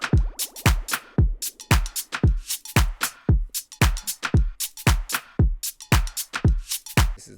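A steady electronic drum beat plays alone, with punchy kicks, snappy hits and crisp hi-hats in a tight, repeating rhythm.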